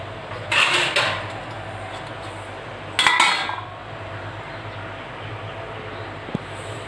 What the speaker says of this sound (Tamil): காய் வேகிற அளவுக்கு கொஞ்சம் நேரம் தட்டு போட்டு மூடி வச்சுடுங்க